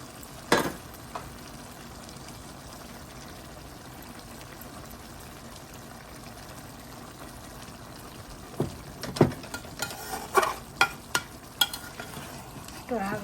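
Tomatoes drop into a pan of small spearing fish frying for chorchori curry. A soft, steady sizzle runs throughout, with a thud near the start and a cluster of scraping stirs near the end.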